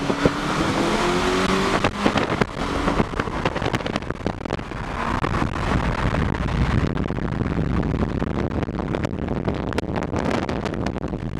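A Volkswagen MK7 GTI accelerates hard in a comparison run, its engine note loud and steady throughout and mixed with heavy wind rush.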